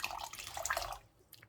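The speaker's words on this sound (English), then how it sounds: "Oh, I've just spilled water all over myself." Water splashes and drips close by during hand dyeing of yarn, a brief wet spill running about a second before tapering into quiet with a few faint drips.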